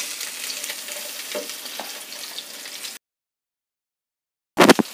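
Chopped onions go into hot oil in a pan and sizzle steadily, with a few stirring scrapes, then the sound cuts out and a short loud burst of frying returns at the end.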